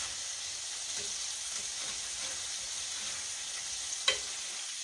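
Catfish pan frying in a skillet, a steady, soft sizzle and hiss of hot oil running evenly throughout, with one brief sharp pop near the end.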